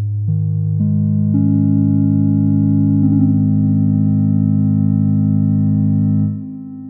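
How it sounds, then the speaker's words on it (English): A polyphonic synthesizer patch built in VCV Rack plays a sustained, stepped chord with Plateau reverb adding a wash, rising in pitch as notes stack, then cutting off and decaying near the end. "Now if we twist this little knob here, we have reverb."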